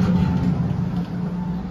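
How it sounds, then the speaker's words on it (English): A city bus passes near a SEPTA subway station in Philadelphia, a loud low engine rumble that swells and then eases over a couple of seconds. "And here's a bus that just passed."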